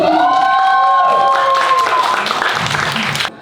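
At an opening party for a matchmaking agency, loud clapping and cheering swell over music-like sustained tones, then cut off abruptly, with a voice briefly audible near the close.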